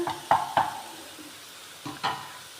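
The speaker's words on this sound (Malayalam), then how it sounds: "ഇതൊന്ന് ഇളക്കി നല്ലോണം യോജിപ്പിച്ചതിന് ശേഷം" A spoon scrapes through plantain frying in a pan, with a few sharp stirring strokes in two short bursts over a faint sizzle.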